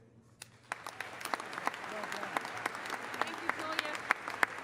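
Applause at a university spring commencement ceremony, scattered claps that build into steady crowd clapping with sharper individual hand strikes near the microphone, while a voice speaks briefly over it.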